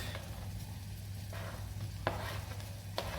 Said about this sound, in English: Then we continue stirring the chopped onions until it's transparent.